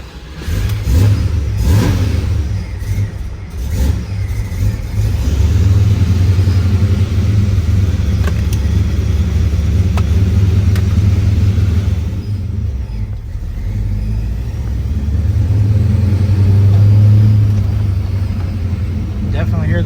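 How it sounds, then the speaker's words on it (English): A 1965 Malibu with twin TorqStorm superchargers and a 5-speed manual revs hard, its deep engine rumble swelling and falling in loud surges while a voice speaks over it. "Definitely hear the blowers."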